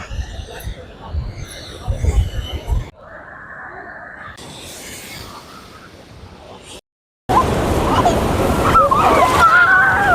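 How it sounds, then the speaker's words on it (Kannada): Sea waves wash and slosh at Marina Beach, heard in broken stretches that grow to a loud, broad surf roar near the end, with people talking over it. "ವೀಕ್ಷಕರೇ ನೋಡಿ, ಇದೇ ಮೆರಿನಾ ಬೀಚ್."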